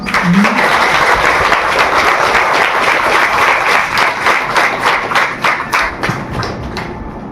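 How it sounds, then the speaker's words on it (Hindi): A large group of about 400 young people gathered on a hilltop claps loudly and continuously for themselves, a thick sustained wall of applause with a steady pulse that eases slightly near the end. "बहुत अपने लिए खूब खूब ताली बजाओ"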